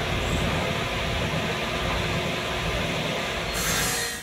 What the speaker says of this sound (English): I'm going to run it through the table saw